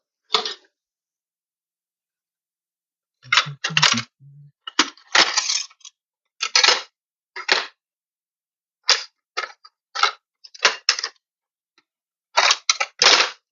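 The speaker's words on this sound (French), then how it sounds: "Couper le reste de l'oignon." A knife chops an onion on a cutting board, sharp close chopping strokes falling in several short bursts with pauses between, loud against an otherwise quiet kitchen.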